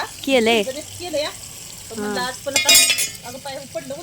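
Masala spices roasting in a pan, with a low sizzle, stirring scrapes and a brief bright clinking burst, mostly beneath ongoing talk.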